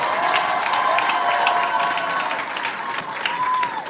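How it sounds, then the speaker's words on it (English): An audience at Discovery Bay High School's STEM academy grade 11 graduation ceremony applauds the students, sustained clapping mixed with some cheering and a faint tone running underneath. "give them a better round of applause"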